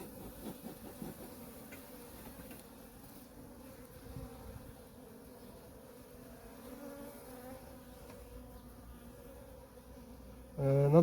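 Honey bees hum softly around an opened hive being inspected in February, a faint, continuous buzz with light handling noises, ending in a louder bump.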